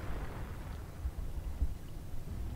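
Artillery barrage in Company of Heroes, a low rumbling wash of distant explosions with a couple of dull thumps standing out, steady and muffled throughout.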